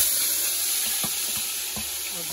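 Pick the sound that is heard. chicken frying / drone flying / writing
chicken frying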